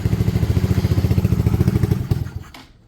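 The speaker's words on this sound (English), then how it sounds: "I'm going to see if it will idle for a bit." A project motorcycle that needs choke and fresh fuel, its carbureted engine running with a loud, lumpy, rapid pulsing idle that falters and dies away within a few seconds.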